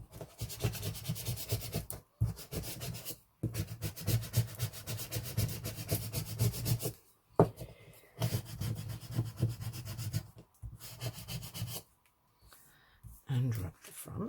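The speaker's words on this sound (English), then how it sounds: "And then rub the back." Rubbing on the back of a transfer laid on a wooden noughts-and-crosses board, a steady close scratchy friction in repeated strokes broken by short pauses, with a voice talking at times.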